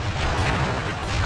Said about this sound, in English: I will send you to your doom with the beauty of my new firework technique